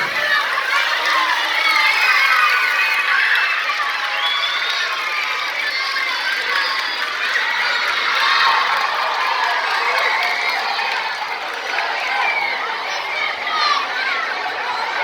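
A school audience at a Turkish middle school award ceremony in Giresun cheers and applauds steadily, a dense, close crowd of clapping and children's shouts that carries on without a break.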